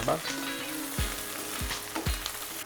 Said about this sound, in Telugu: మనం ఫ్రై చేసి పెట్టుకున్న చికెన్కి కూడా పట్టేలాగా ఒక ఫైవ్ మినిట్స్ టూ మినిట్స్ అలా కలుపుకుంటూ వేపుకుందాం